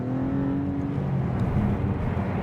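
A twin-turbo six-cylinder Maserati in sport mode, its engine droning steadily from inside the cabin with a low, continuous hum and slight pitch shifts as it pulls on cold roads.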